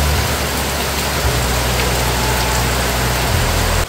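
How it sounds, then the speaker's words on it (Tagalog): Heavy rain pours down steadily and loudly, a dense close wash of drumming water with no voices heard. "Grabe, lakas po ng ulan."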